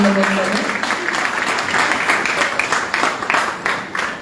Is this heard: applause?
yes